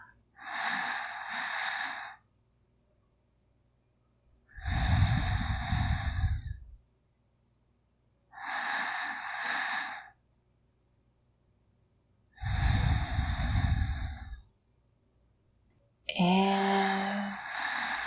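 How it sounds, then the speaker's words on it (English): Slow nasal inhales and exhales during a box breathing exercise, four quiet airy breaths spaced by silent holds, the exhales fuller and lower, followed by a brief sound at the end. "Nasal breathing and quiet breathing"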